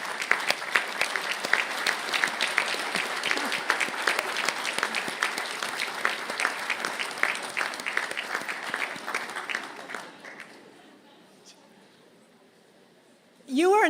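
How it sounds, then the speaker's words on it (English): Audience at a university conferring ceremony in Galway claps in steady, dense applause for families and friends, holding for about ten seconds before fading to near silence, then a brief sound at the end. "a big round of applause for your families and friends"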